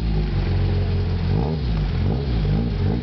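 A Jawa motorcycle engine revs steadily up close, its mid-pitched exhaust note rising and falling in loud, continuous pulses with no talk over it.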